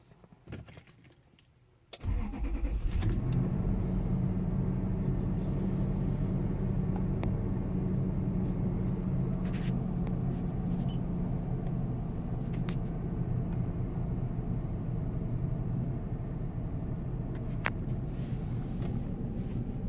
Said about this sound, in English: Let's start up the car, see how it sounds after 10 years.